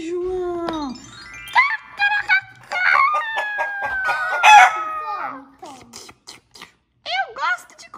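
Hen and rooster calls, with clucks and a crow-like cry, come from a playful children's farm-animal show. They are loud and close, mixed with lively voices talking and exclaiming throughout.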